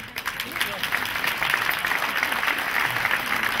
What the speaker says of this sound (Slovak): Díky za ten potlesk.